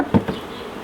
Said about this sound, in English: There's still a honeybee, mellifera.